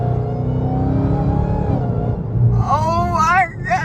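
Dodge Hellcat V8 with a Legmaker intake revving, a loud low engine rumble throughout with rising whine-like tones near the end, while excited voices talk over it.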